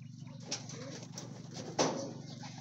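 Racing pigeons coo in a loft just before feeding. Their low, soft, rolling calls run underneath a couple of brief sharper rustles or clatters.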